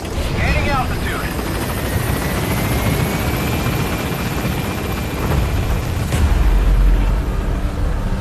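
Helicopter in the video game Metal Gear Solid 5 lifting off from a landing zone, a loud steady rotor roar throughout with a rising whine, while a radio voice speaks over it.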